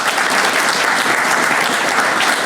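Loud, close applause from the audience at a veterans' recognition breakfast, a thick uniform roar of clapping throughout.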